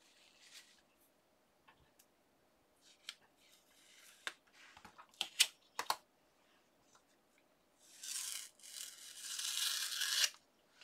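Tape pulled off a repurposed paper bag in a mixed media craft, heard as a few sharp clicks and ticks followed by a long, close ripping peel in two stretches, alone and fairly quiet.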